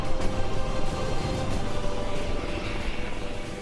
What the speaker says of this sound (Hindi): भारतीय सेना के इन हवाई लड़ाकों ने जब एक साथ उड़ान भरी तो इनकी दहाड़ से पूरा आसमान गूंज उठा।